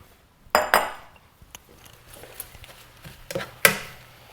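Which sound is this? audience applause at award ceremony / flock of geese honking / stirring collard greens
stirring collard greens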